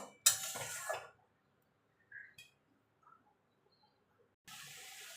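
Water from a rinsed mixer grinder jar is poured into a cooking pot, a short splashing pour at the start, a few faint clinks, then a soft steady sizzle or flow near the end, otherwise quiet.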